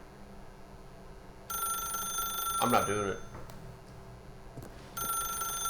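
A telephone rings in the video game The Stanley Parable. Bright electronic rings come in two bursts with a pause between them, and someone speaks briefly in that gap.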